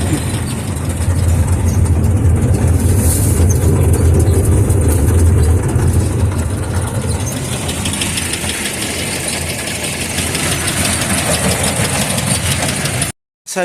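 A Massey Ferguson 30 tractor engine runs loud and close with a steady, rough idle throughout, then falls silent for a moment near the end.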